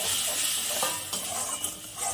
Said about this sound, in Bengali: এবার আমি মশলাটাকে একটু ভালো করে কষিয়ে নেব।